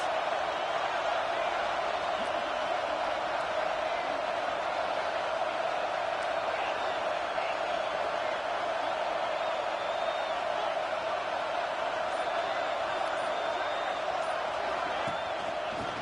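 Football stadium crowd roaring steadily against the offense during an LSU game, a continuous loud wash of noise with scattered whoops, heard throughout under commentary.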